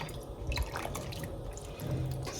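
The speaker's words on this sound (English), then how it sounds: "I do wanna add more of that soup. So let's add a little bit more." Soup stock splashes and trickles into a container, with soft irregular drips and gurgles up close.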